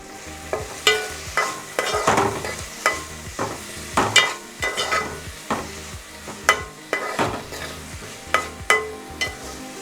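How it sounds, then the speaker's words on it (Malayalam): Onions sautéing with salt in a pan for beef liver curry, with repeated spoon scrapes and stirring strokes over a steady close sizzle, no talking. "സവാളയിലേക്ക് ഇച്ചിരി ഉപ്പിട്ട് കൊടുക്കുക."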